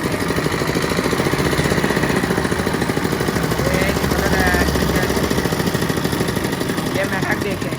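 A sugarcane juice machine's engine runs close by with a loud, steady, rapid chugging rattle that continues without a break throughout.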